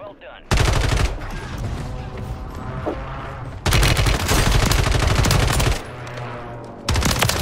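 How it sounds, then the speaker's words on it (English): Loud, dense gunfire in Warzone on Rebirth Island, bursting in sharp sustained volleys with brief lulls between them, close and heavy, with no voices over it. "I got sniped, dude."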